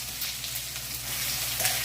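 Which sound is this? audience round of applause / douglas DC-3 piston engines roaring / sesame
sesame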